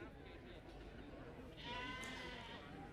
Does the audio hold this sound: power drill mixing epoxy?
no